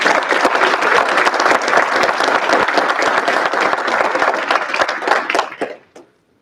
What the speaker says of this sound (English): Let's give a round of applause for our 2022-23 mock trial.